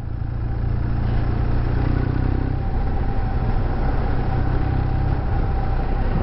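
A 2019 BMW R1250R motorcycle rolls downhill in sixth gear through a village with the throttle closed, its boxer engine a smooth low hum under steady wind noise.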